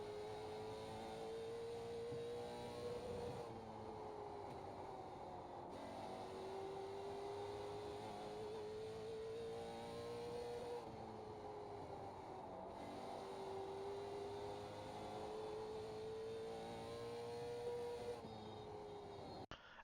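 A late model stock car runs a lap of South Boston in a racing sim, its engine droning steadily and rising and falling in pitch through each straight and corner, with no talk.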